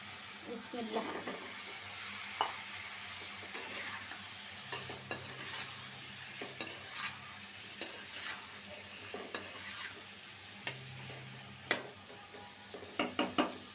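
Spiced bottle gourd curry is stirred and sautéed in a hot pan for a fish curry, with a steady low sizzle broken by clinks and scrapes of the spoon throughout.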